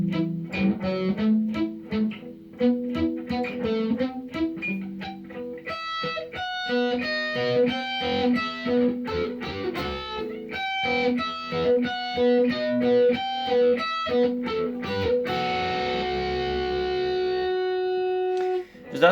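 A clean electric guitar plays the intro chord progression of a song alone, picked chords changing steadily with a tonal, slightly effected sound and a sustained chord ringing out at the end.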